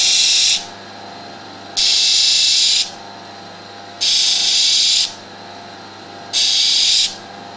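Knife blade bevel ground on rising sandpaper, likely a powered belt: four loud bursts of hissing, rasping abrasion, each about a second long, separated by short quieter pauses with a low machine hum underneath.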